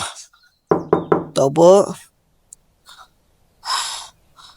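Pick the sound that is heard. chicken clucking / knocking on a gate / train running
knocking on a gate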